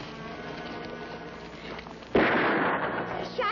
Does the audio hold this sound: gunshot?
yes